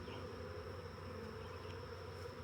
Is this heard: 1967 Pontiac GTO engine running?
no